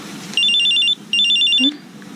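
A cellphone ringtone sounds loud and close in two bursts of bright repeating electronic tones, with a short gap between them, then cuts off.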